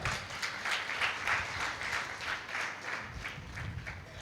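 A church audience at a training programme breaks into applause, a dense, steady wash of many hands clapping, moderately loud and fairly close, with no talk over it.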